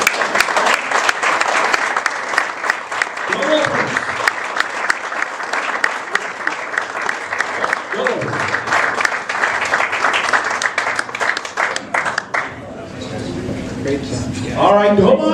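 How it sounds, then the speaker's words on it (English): Sustained applause from a crowd fills the room, dense clapping that swells and dips, with brief voices and cheers breaking through toward the end. "Let's give them a round of applause."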